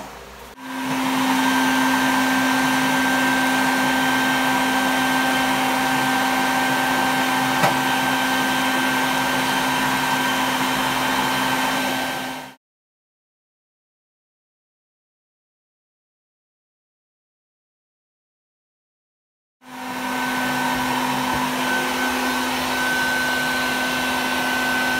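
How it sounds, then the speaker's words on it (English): A loud vacuum drones steadily as bees are sucked out of a hive inside a house, cutting off abruptly for several seconds of silence and then starting up again. "I'm gonna vac a little bit more, see if I can't get the numbers down a little more"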